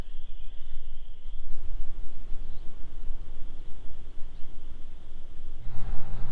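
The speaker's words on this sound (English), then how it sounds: "Those spring peepers though," Spring peeper frogs call in a steady high-pitched chorus outdoors on a farm, heard continuously over low rumbling background noise.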